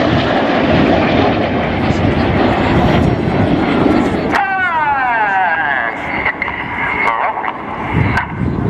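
Red Arrows jets in their 2014 display roar past overhead while flying upside down, a loud sustained engine rush that shifts pitch as they pass, under an announcer's commentary.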